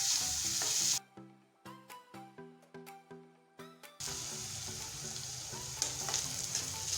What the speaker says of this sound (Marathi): पूर्ण मी कांदा घालून घेते, आणि आपल्याला कांदा छान ब्राऊन होईपर्यंत भाजून घ्यायचा आहे।